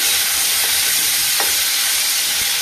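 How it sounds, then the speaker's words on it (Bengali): Prawns frying in a pan with tomato, a steady loud hiss and sizzle throughout, with a few faint clinks over it. "চিংড়ি মাছটা দিয়ে দিলাম, ভালো করে ভেজে নেবো"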